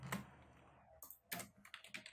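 A name is typed on a computer keyboard: a quick run of crisp key clicks with short pauses between, close and fairly quiet.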